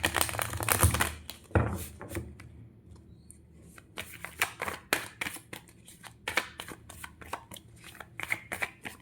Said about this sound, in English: if you don't like to see the shuffling of the cards